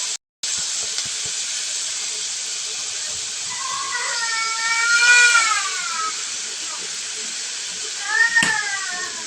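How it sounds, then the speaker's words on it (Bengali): A young daughter wails in rising, wavering cries over a constant steam-like hiss from the stove, with a shorter second cry near the end. "আমার মেয়েটা কান্না করতেছে"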